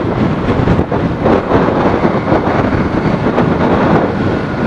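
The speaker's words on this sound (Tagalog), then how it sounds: "Sobrang lakas ng hangin." Strong wind roars and buffets the microphone in a constant, heavy rumble with no break.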